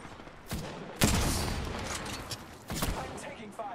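Enemy gunfire in the video game Apex Legends: a few sharp, loud bursts of shots with short gaps between them, the longest volley sustained for over a second.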